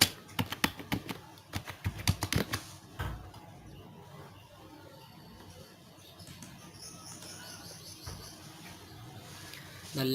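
Computer keyboard keys pressed for shortcuts, a quick cluster of close clicks in the first seconds, then quiet room tone with a few faint later clicks.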